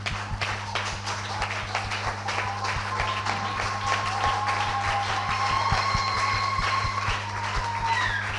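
A church congregation claps and cheers for about eight seconds, a dense continuous applause with sharp individual claps near the front, over a steady low hum and faint whistles or cries.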